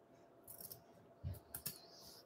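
Scissors trim excess fabric interfacing while sewing a hanging kitchen towel topper, giving a few quiet, close snips and crisp blade clicks spread over about two seconds, with no talk.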